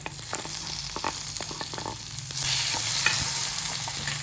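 Tomatoes sautéing in a pan with green chillies for tomato aval upma, a steady close sizzle with scattered stirring scrapes and clicks, growing louder and denser toward the end, no voices.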